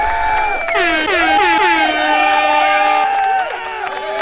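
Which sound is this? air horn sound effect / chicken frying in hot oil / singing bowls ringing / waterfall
air horn sound effect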